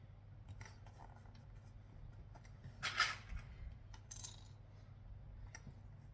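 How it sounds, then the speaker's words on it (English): Scissors snip along the edge of sewing fabric. A few faint, sparse metallic clicks and snips are heard in a quiet room, with two small bursts near the middle. "we're going to clip along the edge to make sure it behaves itself"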